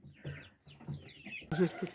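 Chicks peep in short, high chirps nearby, with a few soft clucks underneath, over about two seconds.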